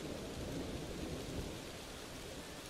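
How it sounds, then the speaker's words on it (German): A thunderstorm with rain makes a dense, constant hiss of falling rain, and a low rumble of thunder swells under it and then fades, moderately quiet and without voices. "Mitten durch das Gewitter? Viel zu gefährlich."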